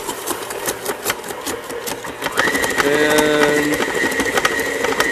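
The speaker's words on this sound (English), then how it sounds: "you can hear that the mixer is struggling a little bit more" An ice cream mixer labors as the mixture thickens, a steady mechanical whir that deepens and grows louder partway through, with a rising droning tone and rattling under it.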